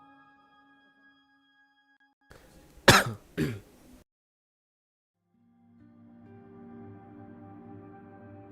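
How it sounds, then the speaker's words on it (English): A person who is feeling unwell gives two quick, close coughs, like a throat being cleared, between quiet stretches, with soft background music-like tones before and after. "Kalau ada yang denger gue batuk-batuk"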